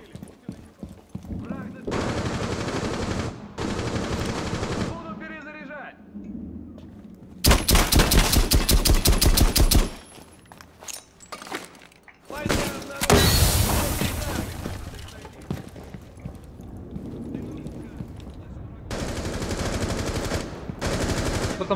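Automatic gunfire in the tactical shooter Rainbow Six Siege comes in several loud, rapid bursts, one long spray in the middle and shorter volleys around it, with talk in between.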